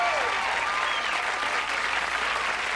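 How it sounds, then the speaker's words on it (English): Sustained applause from a comedy club audience during a 1986 HBO stand-up special, a dense steady wash of clapping filling the room with no break, with faint whistle-like tones threaded through it. "That's way too much applause, really."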